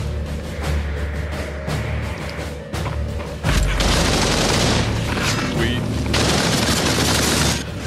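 Gunfire in the VR shooter Population: One, dense bursts of shots and booms running under excited talk from players, growing louder and more continuous in the second half.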